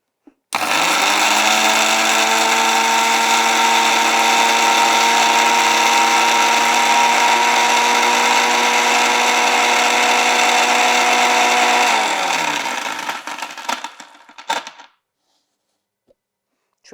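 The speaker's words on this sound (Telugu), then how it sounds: "నీమ్ లీవ్స్ వేపాకుల్ని మనము ఒక ఐదారు రెమ్మల వేపాకుల్ని తీసుకుందాము ఫస్ట్ వాటర్ ఏం యాడ్ చేయకుండా ఒకసారి గ్రైండర్ పట్టుకోండి" Kitchen mixer grinder whirring on a handful of dry neem leaves with no water added, a loud steady motor whine running for about eleven seconds before winding down and stopping, with no talking.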